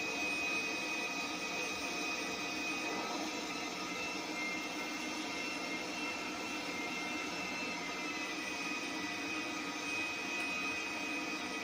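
A passenger jet taxis along a runway in GTA 5, its engine a steady, loud whine and roar that holds level throughout without any talk.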